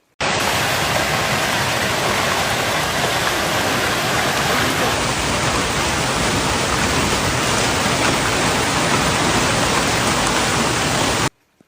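Heavy hail and rain storm in Hebei, China, a dense, loud, unbroken roar of pounding precipitation that holds steady for about eleven seconds and then cuts off, with no voices.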